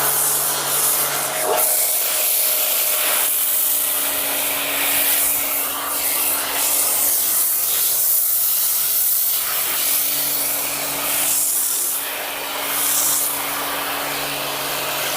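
A snow foam lance sprays foam onto a car windscreen, a steady loud hiss and rushing spray lasting throughout with a faint hum underneath.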